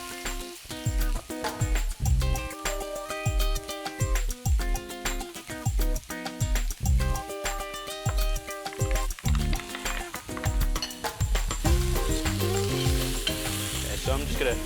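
Pork and sesame balls fry in a very hot pan, giving a steady crackling sizzle throughout. Loud rhythmic background music plays on top of it.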